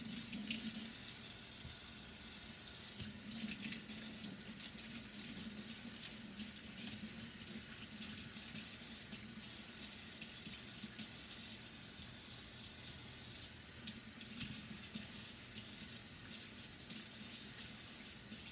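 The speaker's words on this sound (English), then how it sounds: "I'm going to run some water over them" Tap water runs steadily into a sink over vegetables being washed, a continuous hiss and splash that shifts slightly as the produce is handled, faint and without talking.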